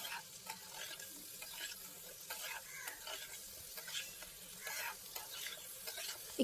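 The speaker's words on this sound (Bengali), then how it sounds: "আমি একটু বেশিক্ষণ ধরে কষাবো নাড়াচাড়াটা করলে তরকারির টেস্টটা ভালো হয়" Jackfruit and fat curry with spices frying in a pan while a spoon stirs it repeatedly, giving scraping strokes at an irregular rhythm over a steady, close sizzle.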